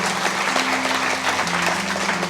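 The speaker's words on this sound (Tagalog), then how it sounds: "isang malakas na palakpak para sa ating Panginoon" A congregation claps loudly and steadily in a church worship service, dense applause filling the room with a faint sustained tone underneath, no voices.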